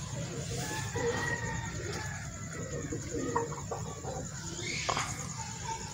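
Several white Aseel chickens cluck and murmur softly nearby in a cage with scattered short calls, over a low steady background hum.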